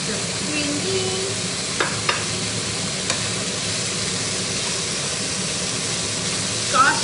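Green beans stir-frying in a hot pan for chicken pad krapao give a steady, close sizzle with a few sharp clicks of a utensil against the pan.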